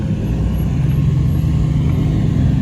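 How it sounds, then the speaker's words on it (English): Engines idle and rumble steadily as cars roll in at an evening car meet, a continuous low vehicle drone close by with no talk over it. "Hella cars are pulling up"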